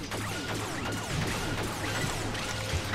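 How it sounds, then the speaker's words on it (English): Explosions in the video game Earth Defense Force 2025, a dense, continuous roar of blasts and crashing debris filling the whole stretch at steady high loudness. "Explosions!"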